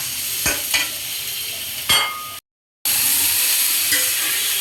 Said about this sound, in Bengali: ভালো করে নেড়ে চেড়ে দিয়ে দিব যেন সব সবজি একসাথে মিশে যায়।